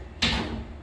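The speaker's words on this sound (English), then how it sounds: "we also added a nice barn door for privacy" A sliding barn door in a remodeled home moves once on its track, a single soft rolling swish that starts abruptly and fades out, close by and fairly quiet.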